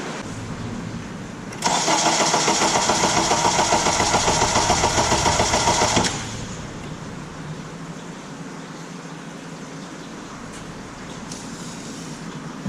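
A 2008 Honda Odyssey with worn starter motor brushes cranks slowly and weakly for about four and a half seconds. The whirring is loud, steady and close, and it stops abruptly without the engine catching, leaving a quieter hum.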